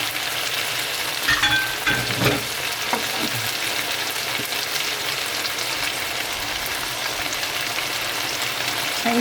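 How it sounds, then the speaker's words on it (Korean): Green and red Cheongyang chili peppers stir-fry over high heat, a steady bright sizzle with scraping stirs and occasional clinks running throughout. "넣어주고 이제 불을 센 불 해가지고 빨리 익혀줄 겁니다."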